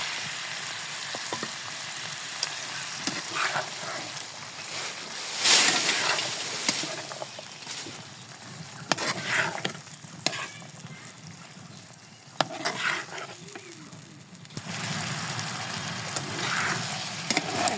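Potatoes fry and get stirred in a pan while cooking prawn do pyaza, a soft steady sizzle broken by occasional scrapes and clinks of the spoon, fairly quiet and close with no talking.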